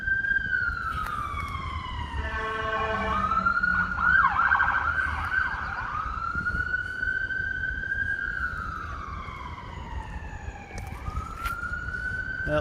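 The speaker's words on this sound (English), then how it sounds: "I hear an ambulance." An ambulance siren wails steadily at a distance in a city street setting, its tone gliding slowly up and down over a low traffic rumble.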